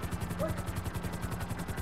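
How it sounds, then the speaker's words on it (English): A video-game helicopter's steady rotor thump beats in a fast, even rhythm, loud and close, with a continuous engine whine running throughout. "I'm going to jump out the helicopter."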